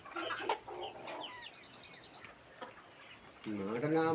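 Native chickens on a poultry farm cluck and call near the microphone, with people talking over and between the calls.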